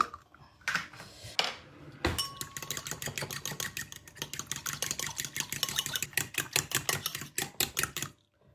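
Eggs being whisked for a cheesy pea frittata. A few soft knocks come first, then rapid, steady clicking of the whisk against the bowl for about six seconds, close and fairly quiet.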